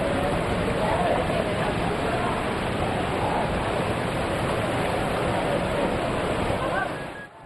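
Hogenakkal waterfalls roar as a continuous, loud broadband rush of water that holds steady throughout and fades slightly at the very end.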